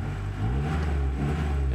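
A Honda DC2 engine runs with a steady low rumble throughout and rises slightly in revs partway through. It sounds close and continuous, with no talking.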